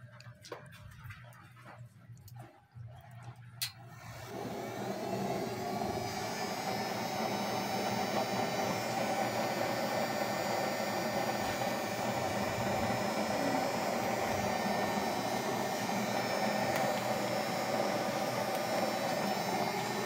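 An oil burner stove's blower starts up after a few seconds of quieter clicks and hum, then runs as a loud, steady roaring whoosh that continues unbroken to the end.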